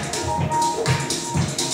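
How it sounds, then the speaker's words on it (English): A few soft taps of a toe on a hard floor, close and unevenly spaced, over a light hissy background. "So we're going to try just taking that right foot, tapping your toe down, tap, tap"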